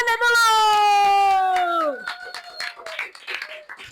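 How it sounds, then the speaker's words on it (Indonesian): Audience applause breaks out right after a sustained sung note ends, a burst of scattered claps that rises for about two seconds. "Oke, tepuk tangannya dulu."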